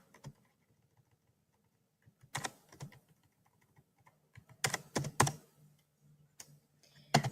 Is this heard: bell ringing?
no